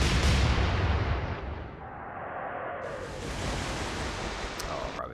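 A heavy naval gun salvo booms from a Royal Navy warship in Atlantic Fleet, a loud blast trailing into a long rumbling roar over sea ambience.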